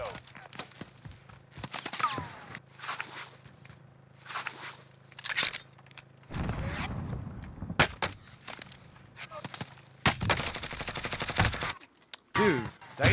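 In the Warzone video game, bursts of gunfire crack out in scattered volleys of rapid shots, interleaved with talk from players and sharp in-game effects.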